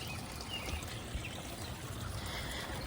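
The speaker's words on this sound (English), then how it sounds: "what you're hearing is the water pouring into the green stalk" Water pours into a green plant stalk in a garden, a soft continuous trickling stream with faint splashy texture, steady and fairly quiet with no talking.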